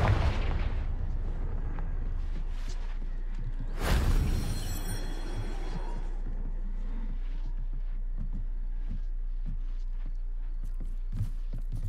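A Confringo fire-blast spell in Hogwarts Legacy sets off one heavy booming explosion a few seconds in, with a burst at the start and a low rumble and faint footsteps afterward.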